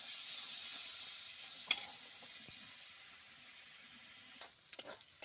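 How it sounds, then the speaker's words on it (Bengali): Chicken skin fries in a pan until crisp, giving a steady close sizzle throughout, with a few sharp clicks of a stirring utensil near the end. "চামড়াগুলোকে ভাজবো, সুন্দর করে মশমশি করে ভেজে নেব"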